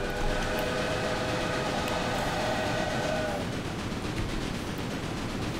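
A locomotive-hauled train runs in the railway management game Railway Empire, set in the USA, with a steady rumbling roll and a sustained horn-like tone for the first few seconds before fading to a constant drone.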